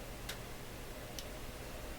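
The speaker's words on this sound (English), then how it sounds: "There are lots of snapping in here again, or clicking." Two faint, sharp clicks about a second apart over a low, steady hum and hiss, snapping inside a Loewe Opta Type 5966 tube radio with a hot transformer.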